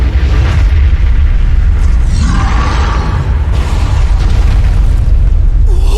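A big, rumbling anime explosion as a shot strikes the body of Kaiju No. 10, a sustained roar of blast and debris noise lasting several seconds, loud and alone with no talk over it.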